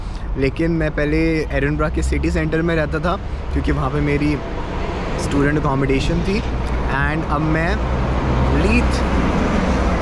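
Traffic on a main road in Leith, Edinburgh gives a steady low rumble of passing cars beneath someone speaking close by.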